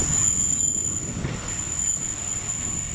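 Thal Express passenger train pulling into Daud Khel Junction station, a loud steady rumble of rail cars with a thin high wheel squeal held over it, no voices.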